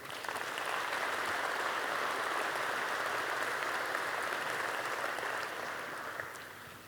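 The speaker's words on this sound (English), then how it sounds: "Let's give a round of applause for Sean." Sustained audience applause fills a pizza expo keynote hall, a dense, steady wash of many hands clapping at once that holds level for several seconds, then begins to thin and fade toward the end.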